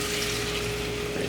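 Dirty rice-rinsing water is poured out of a bowl, giving a brief, steady, soft rush of liquid.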